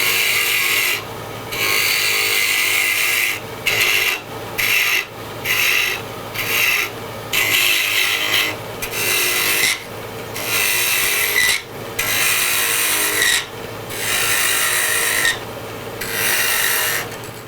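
A wooden can cap being hollowed out on the inside with a cutting tool, giving harsh, close scraping rasps in repeated bursts separated by short pauses, with no talk.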